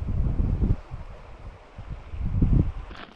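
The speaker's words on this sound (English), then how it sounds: "it's a very windy area down here" Gusty wind roars across the microphone in two strong surges at a motorcycle campsite in Alaska, dropping to a quieter rush in between; no voices.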